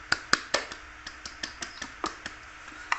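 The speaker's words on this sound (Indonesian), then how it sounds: "tepuk tangan buat kita semua" A small school class gives a brief round of applause, about a dozen separate, fairly faint claps in a loose, irregular rhythm with no voices.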